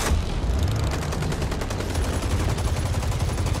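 Sustained rapid gunfire fills a fight scene in the Injustice 2 video game, a loud, dense string of shots and bursts that runs without a break from start to finish.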